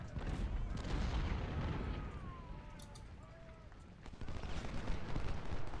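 Artillery fire booms during a Civil War battle at Harper's Ferry in a strategy game, with rumbling blasts and scattered gunfire under dense battle noise, while someone talks over it.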